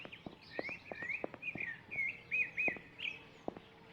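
Birds chirp in a quiet outdoor scene of the horror exploration game Quiet House Massacre, a string of short, bright, faint tweets and trills repeating irregularly over near silence.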